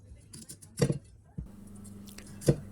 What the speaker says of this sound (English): Now it's time to cut up the broccoli, and I'm using 1 head. So I just cut the florets off it.